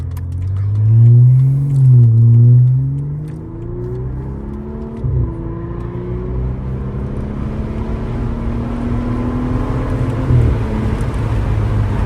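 A car pulls away and accelerates hard, the engine rising in pitch through its gears and then holding a steady, loud drone from close inside the cabin.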